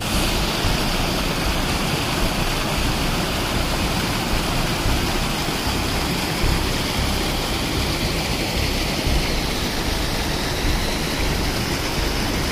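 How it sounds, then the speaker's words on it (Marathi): Steady, loud broadband rush of water pouring out of a farm field, continuous and unbroken with no voices. "हे असे येऊ लागले आमच्या शेतातून पाणी"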